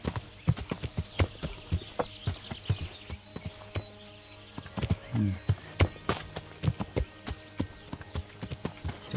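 Horse hooves clip-clop at a walking pace in the medieval game Kingdom Come: Deliverance, a steady series of fairly close, distinct hoof strikes with a short whinny partway through.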